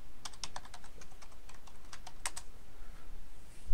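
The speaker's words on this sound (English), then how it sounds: "And you want to type in your password." Rapid, irregular clicks of a computer keyboard as a password is typed, crisp and close in a quiet room, with short pauses between bursts of keystrokes.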